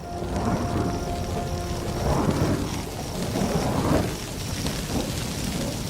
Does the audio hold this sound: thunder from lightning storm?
yes